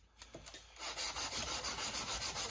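Fine 320-grit abrasive rubbing oil scale off a quenched steel hunting knife blade, a few light scratchy strokes giving way to a quiet run of rhythmic back-and-forth rasping passes.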